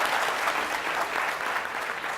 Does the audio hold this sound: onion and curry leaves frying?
no